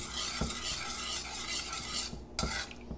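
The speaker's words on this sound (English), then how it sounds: "we're just going to stir this around a little bit just to make sure everything's mixed in" Steady stirring of vegan gluten-free orange cranberry muffin batter in a bowl, a continuous scraping swish with a couple of sharper knocks of the utensil against the side, close and fairly quiet, no voices.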